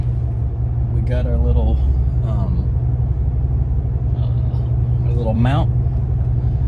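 A 2008 Chevrolet Impala SS cruises along, a constant deep engine and road rumble heard from inside the cabin under a voice.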